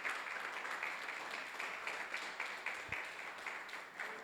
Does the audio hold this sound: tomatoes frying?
no